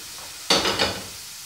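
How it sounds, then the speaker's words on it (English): A sudden burst of sizzling as steak hits a hot buttered pan, crackling loudly for a moment before fading back to quiet. "And as that's sizzling,"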